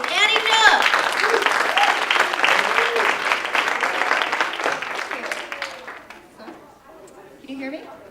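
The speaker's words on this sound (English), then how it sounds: "I want you to give a warm round of applause and welcome to the stage, Annie Jubb." A festival audience gives warm, sustained applause that carries dense, close clapping for several seconds and then thins out and fades near the end. Faint crowd chatter mixes in underneath.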